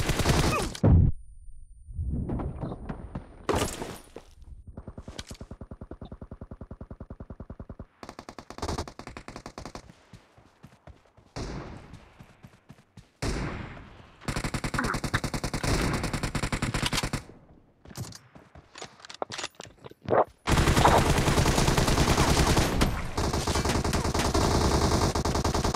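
Gunfire from the PUBG video game, with loud automatic bursts and single shots coming in dense, repeated volleys and rapid rattling sequences across a long stretch of gameplay.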